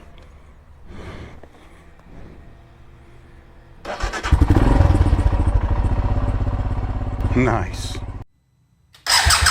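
A 2022 Royal Enfield Himalayan motorcycle engine cranks, catches and settles into a loud, close, thumping idle, then cuts off briefly before firing again; a voice speaks briefly near the end.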